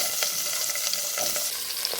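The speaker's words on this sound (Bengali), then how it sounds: "এবার দিয়ে দিচ্ছি কেটে রাখা ফুলকপিগুলো" Cut cauliflower florets sizzle and fry in hot oil with salt and turmeric in a pan, a steady close crackling hiss with faint stirring clicks throughout.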